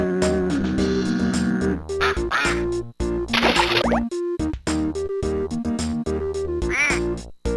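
Electronic cartoon ducks quacking in the Fisher Price Splatster plug-and-play video game, a loud, rapid string of synthesized quacks and squeaky cries over bouncy game music, with no voices.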